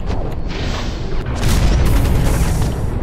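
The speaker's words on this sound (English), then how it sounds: "I'm gonna just toss a grenade at him." A grenade detonating in the Hawken mech shooter: a loud boom swells midway and rolls into a heavy rumble, preceded by mechanical clanks and game noise.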